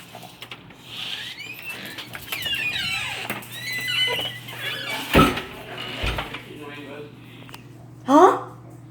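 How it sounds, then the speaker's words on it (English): Creaking door hinge in need of oil, drawn-out squeaky groans rising and falling across several seconds, mixed with talking and a couple of sharp knocks. "that door needs oil."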